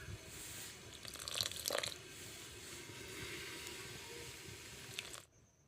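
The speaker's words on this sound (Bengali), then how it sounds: "ভালো করে ধুয়ে তুলে নেব" Mushrooms being rinsed under a running tap in a kitchen sink, a steady broadband rush of water with brief louder splashing and squishing as they are handled, stopping abruptly near the end.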